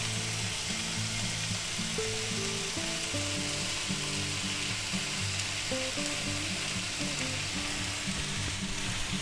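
Eggs sizzle in a frying pan with ham, peppers and onions after the burner is switched off, giving a steady, moderately loud hiss with faint tonal hum underneath and no talking.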